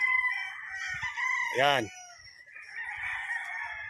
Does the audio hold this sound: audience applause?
no